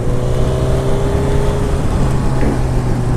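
1000cc supersport motorcycle engine in C mode ridden in the rain, a loud steady drone with a low rumbling note and rushing wind noise throughout, close and continuous, no talking.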